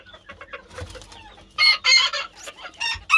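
Chickens and roosters clucking on a poultry farm with chicks, starting as soft scattered clucks and rising to loud, close bursts of squawking and calling in the second half.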